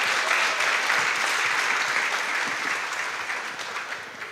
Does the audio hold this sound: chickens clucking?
no